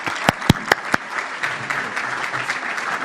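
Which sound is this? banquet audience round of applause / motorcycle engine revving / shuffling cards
banquet audience round of applause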